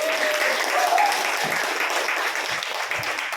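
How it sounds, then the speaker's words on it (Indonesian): An indoor audience gives loud, dense applause at a school socialisation event, the clapping steady and close throughout, with a brief tonal voice faint underneath. "Aplaus dulu Bapak Ibu."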